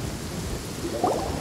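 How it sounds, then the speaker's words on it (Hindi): Rain hisses steadily in a Genshin Impact thunderstorm, with a low rumble of thunder rising briefly near the end of the short stretch; no voices. "ओ कतई बारिश वाला मौसम चालू हो गया है, वैसे इतना तूफान है"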